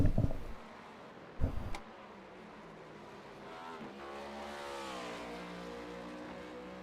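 A racing motorcycle in an AMA Cup race at Circuit of the Americas climbs through its gears as it passes, a rising and falling engine whine building from a distance and then holding steady. Sharp mechanical bursts come just before it.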